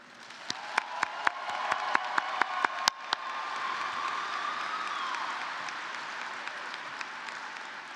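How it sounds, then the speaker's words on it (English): An audience at a high school graduation ceremony bursts into applause, a few sharp individual claps leading into sustained, moderately distant clapping that slowly swells and fades. "Please thank and give a round of applause for Ms. Kate McDonald"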